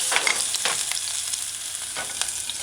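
Crushed onions and garlic sizzling in hot oil in a wok for General Tso's chicken, a steady bright crackle with occasional stirring scrapes, close and continuous with no talking.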